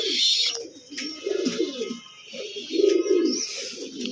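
Homer pigeons coo repeatedly in soft, rolling phrases close by, with sharper chirps and ambient noise layered above, and no speech.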